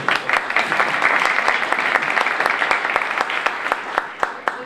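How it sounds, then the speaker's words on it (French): Applause for Karine at a culture and digital forum, a dense crowd clapping with sharp individual claps standing out, moderately loud and sustained, with some voices mixed in. "Mets l'applaudissement pour Karine, s'il vous plaît."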